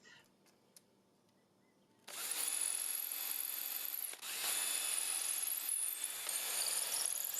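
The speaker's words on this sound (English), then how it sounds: "I'm going to use this jig to make holes for the handles to go onto the centerpiece tray" A power drill bores holes through a wooden epoxy-resin centerpiece tray guided by a jig, whining loud and steady for several seconds after a quiet start, with a brief dip midway before it resumes.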